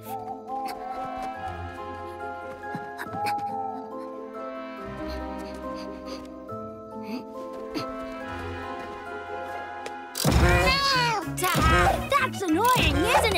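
A cartoon cat in The Smurfs 3D meows loudly in a burst of repeated, wavering cries near the end. Before that, light music and cartoon voices play.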